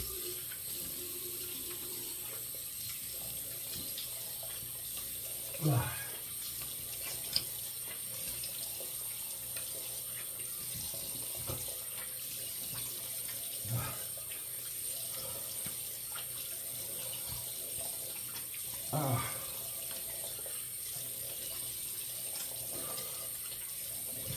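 Tap water runs steadily over the head of a vintage 1960s Gillette English aluminum safety razor, a continuous close hiss with a few brief splashes and knocks as the head is rinsed.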